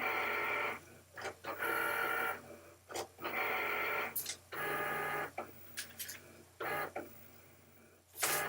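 An electronic cutting machine cutting out printed shapes after reading registration marks, heard as close, repeated motor whirs and buzzing carriage runs in short bursts with pauses and clicks.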